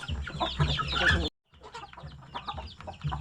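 Free-roaming chickens on a farm, some around nine months old and large, cluck steadily and close by, with a brief silent gap partway through.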